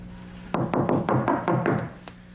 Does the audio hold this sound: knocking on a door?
yes